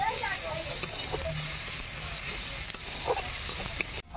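Crushed garlic and a little turmeric fry in hot oil, producing a steady close sizzle with soft stirring scrapes and a few light clicks, ending in a brief knock.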